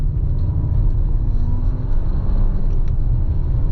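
A 2024 Volkswagen Touareg R accelerates hard on a winding mountain road, its engine a steady, loud, close low rumble that climbs and briefly dips as the transmission upshifts on its own in manual mode.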